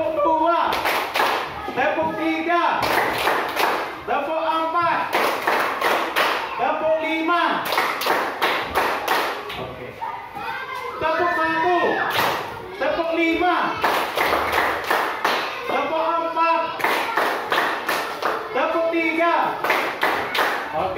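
A class of children performs a rhythmic clapping chant, sharp unison claps in repeated quick patterns between loud chanted voices, with a brief pause midway before the pattern resumes.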